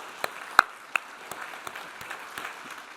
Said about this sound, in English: I'd just like to take this moment to give Ralph a round of applause.